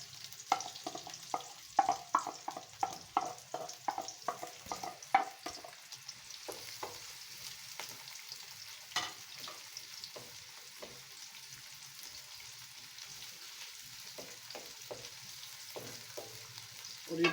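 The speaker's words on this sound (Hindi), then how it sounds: "जब ऑयल थोड़ा सा गर्म हो जाएगा तो हमने इसके अंदर प्याज डाल देने हैं।" Onions sizzling in hot oil in a pan while cooking macaroni at home, a steady frying hiss with a burst of crackling stirs and pops early on, then settling into a softer continuous sizzle, close and with no talking.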